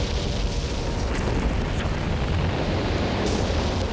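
Bombs exploding during the German Blitz raids of the Second World War: a dense, continuous rumbling roar that stays loud throughout, with no single clear blast standing out.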